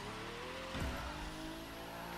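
Car engine roaring steadily with tire noise while drifting around a track in the racing game The Crew 2, loud and continuous, with a brief surge near the middle.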